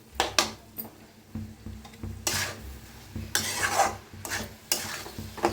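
A spoon or spatula stirs a dingri mushroom and lentil vegetable mixture in a pan. Irregular scraping strokes and soft clatters repeat over a faint, low sizzle.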